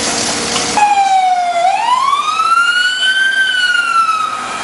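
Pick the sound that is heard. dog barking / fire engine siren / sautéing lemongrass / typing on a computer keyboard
fire engine siren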